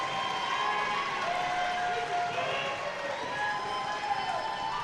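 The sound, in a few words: applause at girls basketball game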